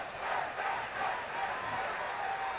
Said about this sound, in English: You hear the crowd getting pumped